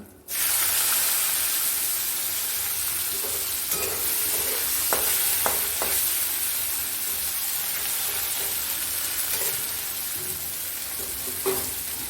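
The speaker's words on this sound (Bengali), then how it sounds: "পেঁয়াজ রসুনটা আমার ভাজা হয়ে গেছে" Onions and garlic sizzle steadily in hot oil, a constant bright crackling hiss with a few clinks of a utensil stirring in the pan.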